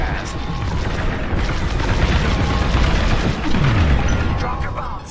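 A reactor core explosion in Star Wars: Squadrons, a dense roaring blast with heavy booming rumble that holds loud for several seconds, full and close with a brief swooping tone near the end.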